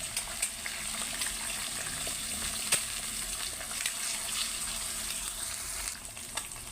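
Beaten egg frying in a pan with already-fried onions, a steady loud hiss and sizzle with occasional crackles and pops, close and continuous with no talking.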